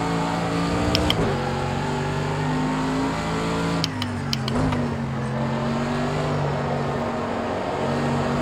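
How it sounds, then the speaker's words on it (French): Mercedes AMG GT3 race car in the Project Cars 2 racing game accelerating hard, a loud steady engine drone rising in pitch with a couple of brief clicks, no talking. "on accélère fort pour voir"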